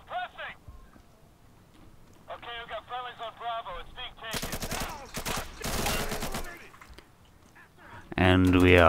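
Gunfire in the tactical shooter Insurgency, heard as bursts of sharp shots in the middle of the clip, with a player talking over the match before and after.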